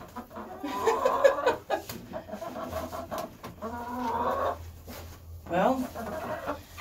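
Hens cluck and squawk at a nesting box, near and lively, in several bursts. Someone talks to them between and over the calls.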